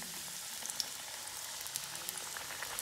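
Pakoras frying in heated oil: a steady, even sizzling hiss with small crackling pops scattered throughout, close and moderately quiet, with no voices.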